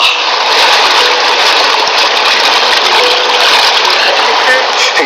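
An amphibious car drives from land into water, its engine droning steadily and loud over a broad rushing wash of water, with no clear talk.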